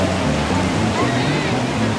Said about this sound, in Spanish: vemos el oleaje un poquito más fuerte